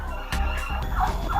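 A turkey on a turkey farm gobbles in a quick, rattling burst of several short pulses, fairly near and moderately loud, with no talking over it.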